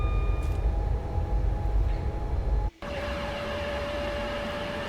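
Class 350 train arriving in a train simulator video game, with a loud steady rumble and hiss that drops out abruptly for a moment before it resumes with a whining tone.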